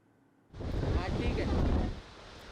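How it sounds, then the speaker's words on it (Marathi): A sudden, strong gust of wind roars across a Mumbai street during an unseasonal rainstorm, buffeting loudly for about a second and a half before easing back to a low rumble. "सोसाट्याचा वारा आलेला होता"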